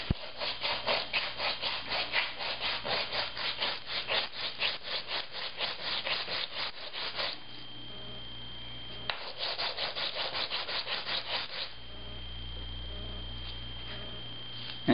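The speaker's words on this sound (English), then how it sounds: "I'm sanding the plastic toys because the bottom is not flat." Rough 100 grit sandpaper rubbing the bottom of a cast resin toy, heard as fast, close, rhythmic scratchy strokes in two runs separated by a brief pause.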